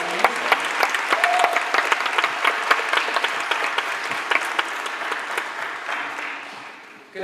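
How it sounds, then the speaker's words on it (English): A graduation crowd at a school claps for a fifth-grade arts teacher, with sustained, fairly loud applause and crisp individual claps, trailing off slightly near the end. "Another round of applause for Miss Moo."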